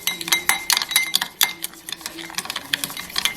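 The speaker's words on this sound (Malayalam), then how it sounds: "ഇനി നമുക്കിത് ഇളക്കിക്കൊണ്ടേയിരിക്കുക എന്നുള്ളതാണ്" A spoon works quickly through a whipped dalgona coffee mixture in a bowl, giving a fast, irregular run of close scraping clicks and clinks against the side.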